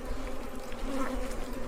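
Honeybees buzz steadily and close, a dense continuous drone from a hive being worked by beekeepers, with no voices over it.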